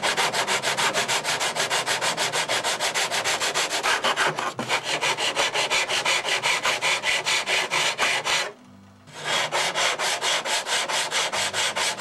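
Steady, fast back-and-forth rasping of a smooth-sided file dressing a new wooden spit part for a Windy U Master 822, loud and close with even strokes, one brief pause near the end.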